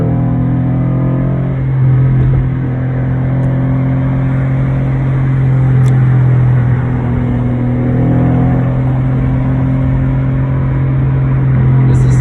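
A 1994 Ford Ranger truck engine drones loudly in second gear at about 35 mph, a steady close cabin rumble with slight rises and falls in pitch as the throttle shifts.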